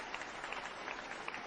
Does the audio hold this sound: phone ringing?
no